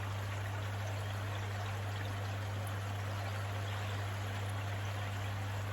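Liquid pours steadily into a koi pond's moving bed filter, a continuous soft splashing stream over a constant low hum, fairly quiet and unbroken throughout.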